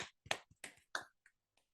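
Someone claps in a few sharp, separate hits with quiet gaps between them, close and clear in an otherwise silent room.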